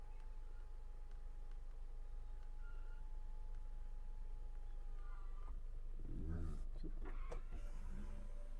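Inside a 2022 Hyundai Alcazar diesel, the electric sunroof motor whirs in a steady faint hum, then the panel thumps and clunks into place near the end, all quiet and close.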